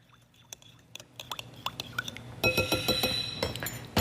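Chili powder and olive oil stirred in a bowl, a run of light, irregular clinks and scrapes of a utensil against glass, close and quiet, growing busier toward the end.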